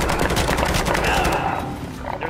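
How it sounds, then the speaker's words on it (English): Rapid enemy automatic gunfire in the Call of Duty MW3 campaign mission "Precious Cargo" rattles loudly in a dense burst, then trails off into quieter sporadic shots. "There's enemy fire."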